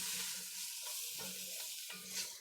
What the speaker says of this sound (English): I'm gonna dump these pearl onions in here